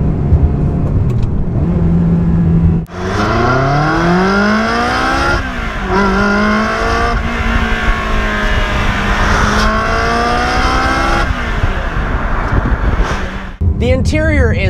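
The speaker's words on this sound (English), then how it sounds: "there's nothing like the sound of a Ferrari V8" A Ferrari V8 engine revs hard and close, its pitch sweeping up and down through several loud, sustained pulls before dropping away near the end.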